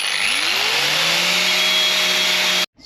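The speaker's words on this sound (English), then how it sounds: "Let's get the old wire wheel out and let's get and start removing this crusty rust." Angle grinder with a wire wheel scrubbing rust off a Kawasaki KH125 motorcycle frame, a loud, continuous high-pitched whine and abrasive hiss as the motor spins up, steady until it cuts off abruptly near the end.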